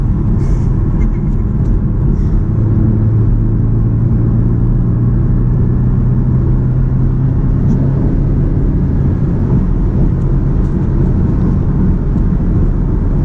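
Car engine pulling hard in fourth gear at triple-digit speed while passing a semi truck on the freeway, a steady loud rumbling drone with road noise throughout, no break.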